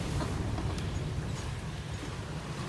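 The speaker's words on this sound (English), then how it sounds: "See the back of the sail banging about" The back of a sail, its leech line jammed, bangs and flaps in strong wind aboard a boat underway in bad weather, a dense, continuous rumbling roar with irregular thumps and no voices.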